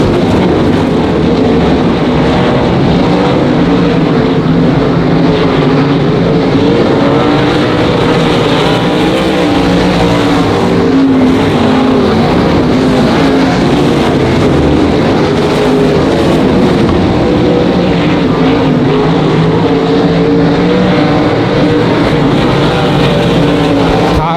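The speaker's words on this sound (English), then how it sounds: "racing for the first position" Race cars roar around Monarch Motor Speedway in a continuous loud, dense engine drone with shifting pitch as the pack passes, filling the whole stretch.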